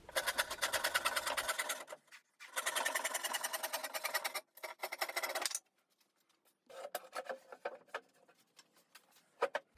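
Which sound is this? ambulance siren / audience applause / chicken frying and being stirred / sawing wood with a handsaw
sawing wood with a handsaw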